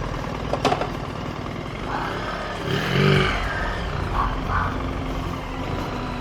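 A BMW R1300GS motorcycle engine drones steadily while riding fast, with wind rush and a brief surge in revs partway through.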